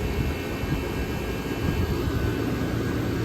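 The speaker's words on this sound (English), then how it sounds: "That lots of classic, powerful vintage units in operation." Several classic, powerful vintage air conditioner units, including a GE Super Thrust and a Lasco, running together in a dense, steady mechanical roar with a low hum and fan whoosh, loud and close, no talking.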